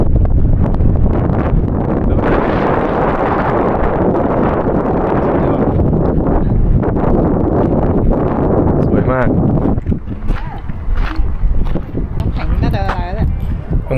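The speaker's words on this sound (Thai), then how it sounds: "ลมแรงมาก" Strong wind roars across the microphone on a city walk in Falun, Sweden, a loud continuous buffeting rush that eases slightly toward the end as people begin talking.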